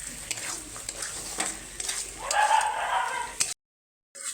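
Pointed gourd being stirred with spices in a pan: close scraping and clinking of a spatula against the pan over a soft sizzle, in irregular strokes, followed by a brief silence.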